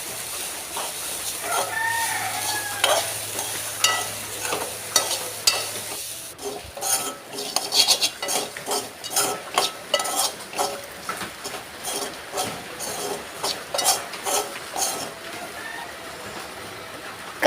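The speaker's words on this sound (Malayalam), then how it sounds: "തേങ്ങ ഇടാം, നല്ലോണം ഇളക്കാം." Grated coconut stirred in a hot pan while making a dried prawn chutney, heard as a close, brisk run of rhythmic scraping strokes over a soft sizzle.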